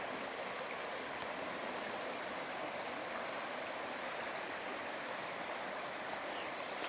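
Creek water churns like a small waterfall somewhere out of sight, a steady, faint broadband rush that stays even throughout.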